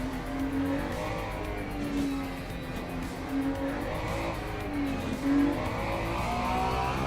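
A Porsche race car in the sim Le Mans Ultimate drives close by, its engine holding a steady loud drone with rising and falling revs and some tire noise, alone without talk.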